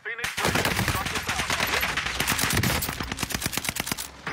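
Rapid automatic gunfire crackles through a video game shootout, with dense bursts of shots close and loud, followed by a string of separate rhythmic shots toward the end.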